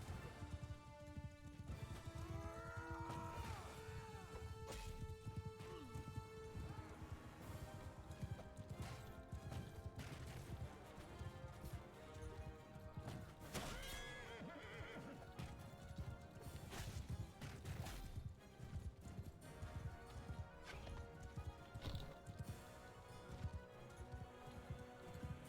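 Horses galloping and neighing in the medieval battle game Mount and Blade II: Bannerlord, rapid hoofbeats mixed with crashes and whinnies in a dense, steady battlefield din.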